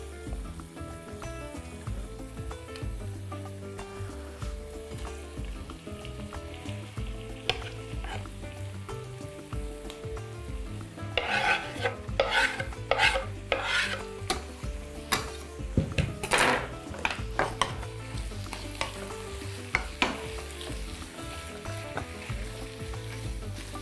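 Dolma ingredients fry in a pot with a steady close sizzle while being stirred, with metallic scrapes and clinks of the utensil against the pot bunched in the middle stretch. No one speaks.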